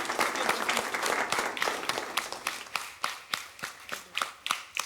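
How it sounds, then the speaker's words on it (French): A studio audience at a televised Ivorian quiz contest applauds a team, with dense clapping that thins into scattered, distinct claps toward the end. "Je pense qu'il faut les applaudir une fois de plus."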